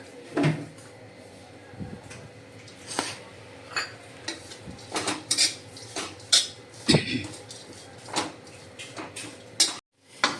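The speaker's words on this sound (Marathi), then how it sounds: "ह्या दगडाने मी थोडंसं खरडा असे खरडवते" Stone pounding and scraping roasted peanuts, chillies and coriander into a coarse Marathi thecha, giving sharp intermittent knocks and clatters at an uneven rhythm, fairly close and clear, with a short silence near the end.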